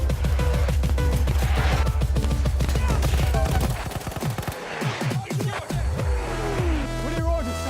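Rapid, dense bursts of booming artillery fire and explosions from a war video game, loud and continuous at first, then thinning into scattered blasts and rumbles.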